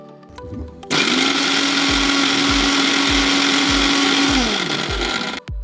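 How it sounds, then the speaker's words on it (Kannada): A kitchen mixer grinder powders cooled roasted mustard and fenugreek seeds, starting with a short rattle and then a loud, steady motor whine with dry seeds knocking rhythmically inside the jar before it winds down. "ಮಿಕ್ಸಿ ಜಾರಿಗೆ ತಣ್ಣಗಾದ ಸಾಸಿವೆ ಮೆಂತೆ ಹಾಕಿ ನೈಸಾಗಿ ಪೌಡರ್ ಮಾಡ್ಕೊಳ್ಳಿ."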